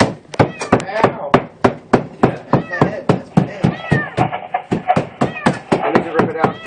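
A trapped kitten cries from inside a wall during a firefighter rescue, its repeated high mews mixed with rhythmic knocking and thumping against the wall, and people talking nearby.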